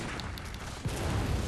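A single gunshot fires in the video game Bloodborne, a low boom blooming at the middle of a steady rumbling game soundscape, followed by continued low-end noise.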